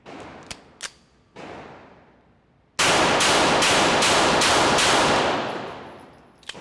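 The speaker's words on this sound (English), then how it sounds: "these are going to be your first rounds out of the Mercier Virāgō 24" Gunshots from a Mercier Virāgō 24 pistol, an Alchemy Quantico high-capacity handgun, firing outdoors: two sharp early reports and a third shot, then a rapid string of about six loud shots ringing close together.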